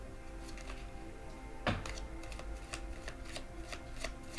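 Quiet, steady rustle of tarot cards being shuffled, with soft ticking flicks and one sharper snap partway through.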